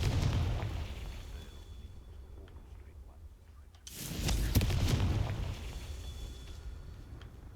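A Confringo spell cast in Hogwarts Legacy sets off a booming explosion with a sharp onset, followed by a rumbling, crackling tail that fades slowly under the game's ambient background.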